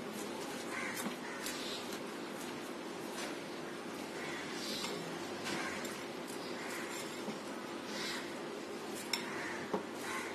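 Chicken, cabbage and soy sauce being mixed together in a bowl, producing soft, steady rustling and wet churning with occasional light clinks, faint and close, with no talking.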